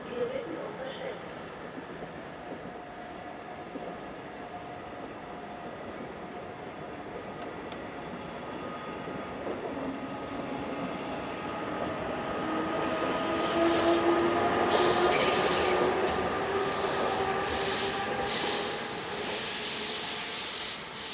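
Express passenger train hauled by locomotive 101017 rolls into a station, its wheels and carriages rumbling and grinding louder as it nears, with brake squeal toward the end and a voice speaking over the approach.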